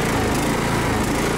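A petrol lawn mower engine runs on the choke while warming up, a loud, steady, close buzzing drone that barely changes.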